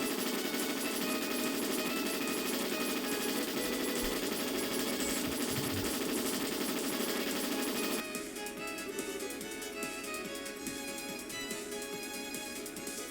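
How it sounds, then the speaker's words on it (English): Rapid missile and weapon fire in the video game Trails in the Sky SC, a dense, loud, continuous crackling barrage that thins abruptly partway through into lighter rattling bursts. "Pew! Missiles!"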